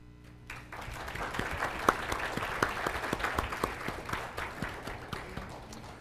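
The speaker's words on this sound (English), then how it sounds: "So I'd like the folks with Parkinson's to give them some applause right now." At a Parkinson's disease gathering, an audience breaks into applause, starting quietly and swelling to steady, fairly distant clapping with some individual sharp claps standing out, lasting several seconds.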